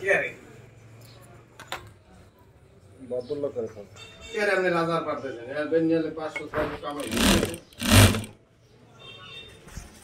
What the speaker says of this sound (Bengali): খুব সুন্দরভাবে সেলাই করা হচ্ছে